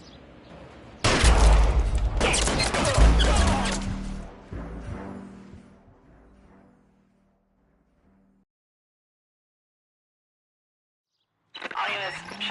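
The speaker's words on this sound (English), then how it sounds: "Shots fired, officer needs help." Heavy bursts of gunfire in the video game L.A. Noire erupt loudly for several seconds, then fade into near silence before another short burst at the end.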